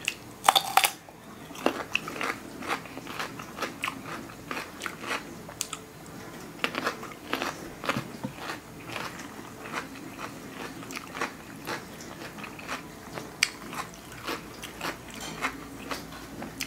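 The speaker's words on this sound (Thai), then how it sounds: "กินซุปนะคะซุปไส้กรอก" Someone eating sausage soup at close range, with small irregular bites, chewing and light crunching sounds throughout and a brief sharper clatter near the start.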